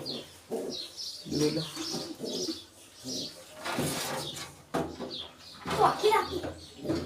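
Pigeons coo in short soft bursts between stretches of people talking, including a voice, close by in a home setting with young pigeons.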